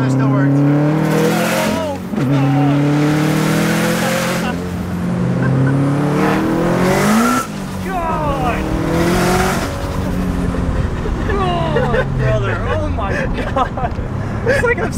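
A 700-horsepower all-wheel-drive Subaru WRX with equal-length headers revs hard and spins its wheels, its engine note rising and falling in loud surges, with tire noise in between and people talking over it.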